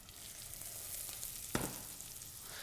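Chorizo and onions fry in a pan with a steady, close sizzle, broken by a single sharp clack or stir near the middle. Nobody speaks.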